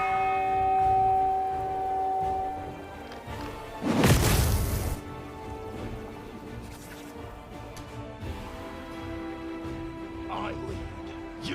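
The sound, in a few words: bell being struck in video game Pathfinder: Wrath of the Righteous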